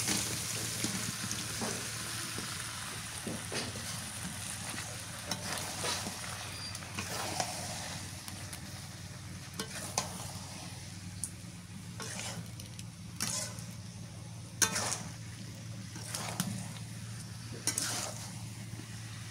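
Fried beef goes into a pot of spiced masala while cooking Eid beef pulao, with a steady close sizzle, spoon-scraping stirs and occasional knocks against the pot over a constant low hum.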